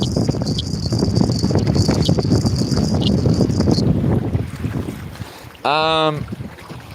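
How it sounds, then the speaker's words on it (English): Strong wind buffets the microphone on a small fishing boat out on the ocean, a loud gusting roar with whistling for several seconds that eases off before a short harsh tonal noise near the end. "And here comes the wind."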